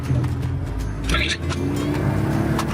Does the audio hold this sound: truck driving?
yes